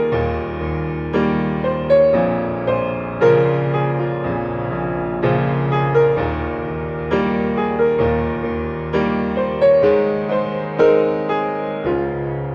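A piano plays the right-hand part of a song slowly, with a rocking pattern of chords and melody notes moving in a gentle repeating rhythm. The playing is close and clear, with no talking.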